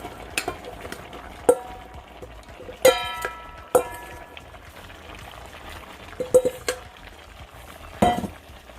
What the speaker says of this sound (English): we're gonna add our onion and our carrots with our potatoes